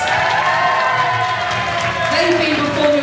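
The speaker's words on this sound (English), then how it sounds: "A massive round of applause for our stage school kids." Applause and cheering from an audience at a holiday-park show bar rise for a group of stage school kids, a steady crowd roar that continues under faint talk.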